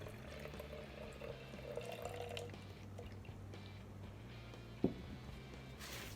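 White vinegar, about four ounces, pours into an 8-ounce spray bottle for a homemade dog flea and tick spray, a soft steady trickle lasting several seconds, faint and close with a small knock near the end.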